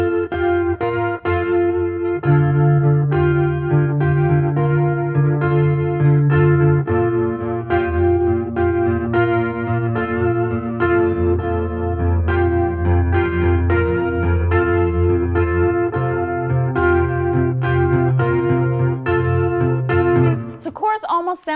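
Electric guitar played through a chorus effect, a doubled, slightly detuned shimmer over sustained chords and melodic notes, loud and continuous with no talking until a brief noise at the end.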